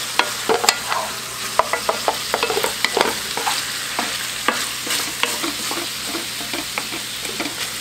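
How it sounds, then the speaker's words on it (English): Sausage and chopped garlic frying in a pan while being stirred, a steady sizzle broken by frequent quick scraping and clacking strokes of the spoon, close and loud, no voices. "I'll just stir this around"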